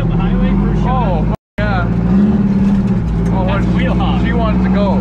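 A Detroit-powered race truck engine revs loudly, its deep, rising and falling growl running steadily under people talking, with a brief drop to silence partway through.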